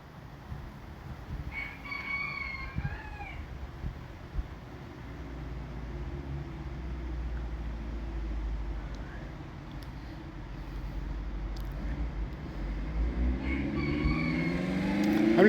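A rooster crows outdoors among peafowl and their chicks in a Pomona neighborhood, a few distant crows rising over steady low traffic rumble, with a louder, nearer call building near the end.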